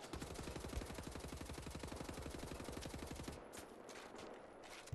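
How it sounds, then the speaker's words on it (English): Rapid automatic gunfire rattles in Wolfenstein: The New Order, a fast, evenly spaced burst of shots for over three seconds that then cuts off, leaving quieter game ambience. "I was really just shooting wildly there."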